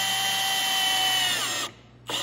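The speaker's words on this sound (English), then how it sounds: "Throttling the drill here." Cordless power drill driving a screw into wood during a bench build, a steady high whine lasting well over a second before cutting off, then a brief restart.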